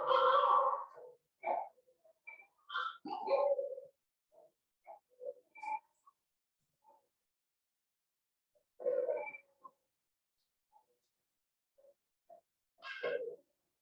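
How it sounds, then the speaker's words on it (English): Barred owls call back and forth outdoors, loud hooting and cackling bursts near the start, then scattered softer hoots with long quiet gaps and a final burst of calls near the end. "hearing barred owls."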